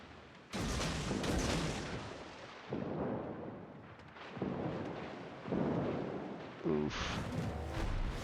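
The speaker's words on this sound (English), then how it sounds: "the sheer amount of shells being launched at that destroyer" Naval shells fired at a destroyer in World of Warships, heavy booming cannon blasts in repeated rumbling salvos, loud and close, with a voice now and then beneath.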